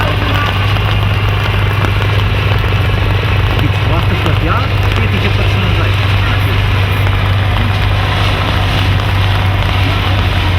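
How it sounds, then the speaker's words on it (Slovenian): Slovenian Army military helicopter close by at a military history festival, a loud continuous rotor and turbine roar with a steady low hum throughout, no pauses. "Helikopter Slovenske vojske je še vedno v bližini"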